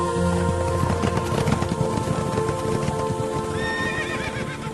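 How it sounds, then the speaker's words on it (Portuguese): Horses pulling war chariots gallop with busy clip-clop hooves and loud neighs and whinnies, a dense, close, continuous scene with no talking. "O primeiro carro era puxado por cavalos vermelhos, o segundo por cavalos pretos, o terceiro por cavalos brancos e o quarto por cavalos baios."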